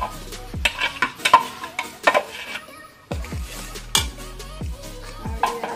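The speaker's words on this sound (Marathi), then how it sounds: "आणि आता ढवळत ढवळत राहायचं." A spoon stirs mango pulp in a metal cooking pot with a steady rhythm of close scraping and clinking strokes, over a faint simmering hiss.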